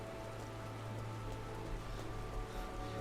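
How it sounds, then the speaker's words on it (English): Steady rain falling through a forest in Final Fantasy XIV, a constant even hiss of drops on leaves and ground with a low ambient hum beneath, no voices. "this is a horrible time to be a cat in the rain in the forest"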